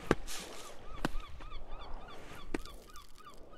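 Seagull calls in the climbing game Peaks Of Yore, a few short honking cries repeating over faint background ambience, with sharp clicks scattered between them.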